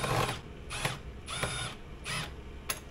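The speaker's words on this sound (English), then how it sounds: "So you use your wrench to kind of hold it, and then you run the other one through." A wrench tightens a small bolt on a homemade clamp for painting trim, giving quiet repeated ratcheting clicks in short bursts roughly every half second against a steady background hum.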